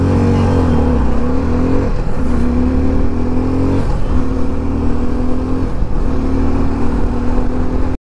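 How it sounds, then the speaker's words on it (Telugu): A Nissan GT sports car engine drones loudly and steadily while waiting at a traffic signal, with repeated revs rising and falling roughly every two seconds, close by and with no talk over it. "నిషాన్ జీటీ క్రేజీ ఉంది దాని సౌండ్."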